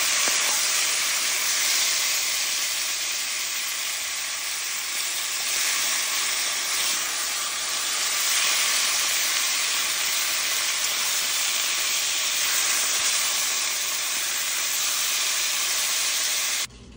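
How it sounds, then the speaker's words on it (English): Beef searing in butter in a Dutch oven gives a loud, continuous broadband sizzle and hiss that holds steady for the whole stretch, close up with no voices. "You want to get a nice sear on each side of your beef, basically."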